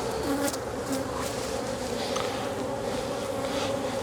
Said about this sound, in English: There's a couple pissed off bees in my face right now.